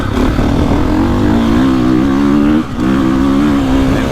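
A KTM 450 Factory Edition motocross bike rides over choppy, rutted dirt, its engine note rising and holding steady with a brief dip mid-run before climbing again, loud and close throughout with no talking.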